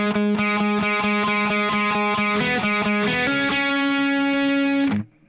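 Distorted electric guitar plays the pre-verse riff of a song, a steady run of repeated picked notes that settles into one long ringing note before cutting off, loud and up close with no talking.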